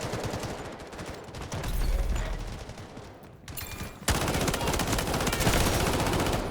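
Rapid machine-gun bursts in the shooter game Delta Force, from an SG552 rifle build, fire loud and continuous. A sharp, even louder volley cuts in partway through.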